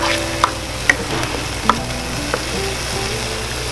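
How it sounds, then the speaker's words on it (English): Eggplant caviar mixture sautéing in a pan, a steady sizzle broken by several sharp clicks of a utensil against the pan, close and fairly loud. "And then we're gonna let that saute"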